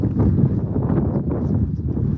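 Strong wind buffets the microphone outdoors on a cold, 36-degree day, making a continuous low rumbling roar with uneven gusts.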